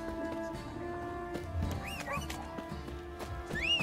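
Horse in the video game The Witcher 3: Wild Hunt, snorting and giving rising whinnies over a steady bed of hooves and ambient game sound, close and moderately loud.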